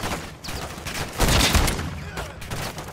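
Gunfire in Call of Duty Modern Warfare 2 during a tank campaign mission, a dense burst of loud, overlapping shots that peaks midway through, with a voice briefly under it.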